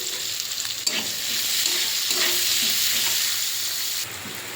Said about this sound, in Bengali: পেঁয়াজটা ভাজা ভাজা করে নেব ভালো করে।